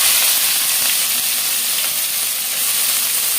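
Onions sizzle loudly in hot oil in a pan while cooking egg omelet curry, giving a steady, dense frying hiss that continues without pause and with no talk.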